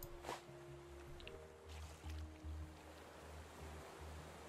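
Ocean waves in the Raft survival video game, a faint continuous wash of surf with soft splashing and low rumbles, quiet and steady throughout with no speech.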